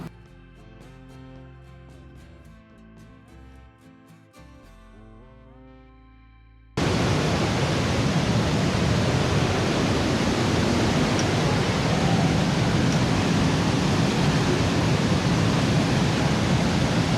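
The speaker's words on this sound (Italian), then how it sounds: "finalmente arriviamo ai piedi della cascata" A waterfall roars steadily at its base, a loud, unbroken wash of broadband noise that abruptly replaces quieter music and continues without letup.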